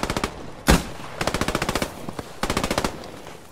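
Rapid bursts of MG34 machine-gun fire in the WWII shooter Post Scriptum, several rattling strings of shots broken by a loud single blast, close and sharp with no talk over them.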